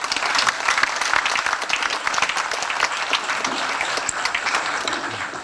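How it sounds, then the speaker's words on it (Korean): A large church assembly at an elders' association New Year gathering claps loudly to welcome a speaker, many sharp individual claps blending into sustained, vigorous applause that tapers slightly at the end. "우리 감사하는 마음으로 크게 박수로 환영하겠습니다"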